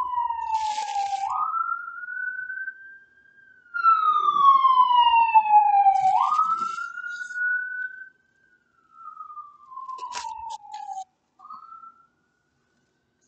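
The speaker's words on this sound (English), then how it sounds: "I'm gonna wait till the siren goes past." A wailing siren sweeps up and down in long rising and falling cycles, loud and close at first, then fading as it moves away.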